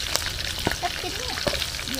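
Whole loach fish frying in a pan, giving a steady, close sizzling hiss with occasional small pops while people talk over it.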